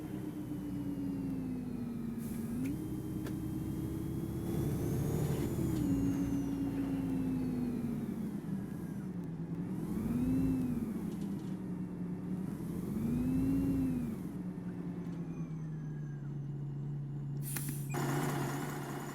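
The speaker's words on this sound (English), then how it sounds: "There we go, and then we will pull back into the bus station." Engine drone of a Volvo Olympian bus in the OMSI 2 driving simulator as it pulls into a bus station, rising and falling through gear changes, with a hiss of air brakes near the end.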